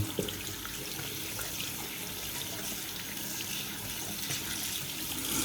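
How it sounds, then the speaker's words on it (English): A bathroom tap runs steadily to rinse a shaving brush after making bowl lather, giving a continuous, even splashing rush of water. "we'll rinse, get our fingers clean, and rinse this guy off for next time"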